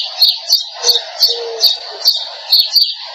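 Repeated bright bird chirps, about a dozen short tweets in a steady rhythm, close and clear with no talking.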